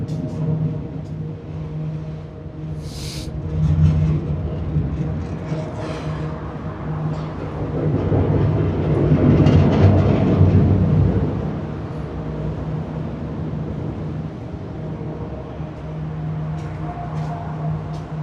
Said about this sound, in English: Walking under while the train is running, that's good luck.